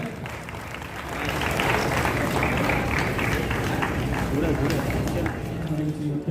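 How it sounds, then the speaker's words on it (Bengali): A crowd claps steadily, the applause swelling after a moment and holding at full strength to the end. "এবার জোরে হাততালি হয়ে যায়"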